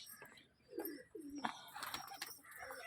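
Pigeons kept in a home coop coo softly in a few low, brief calls with faint chirps, quiet and close in a hushed setting.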